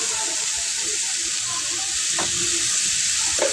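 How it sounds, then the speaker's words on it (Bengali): Sweet potato mixture with chopped tomato frying in a pan: a loud, steady sizzle close to the microphone, with a few light scrapes of a spatula stirring. "ভালো করে নেড়েছে কিন্তু আমরা এটা ভেজে নেব।"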